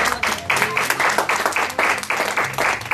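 A church congregation at an Easter service applauds, with a steady run of loud, dense clapping in even rhythmic pulses, close and continuous, with a voice faintly under it.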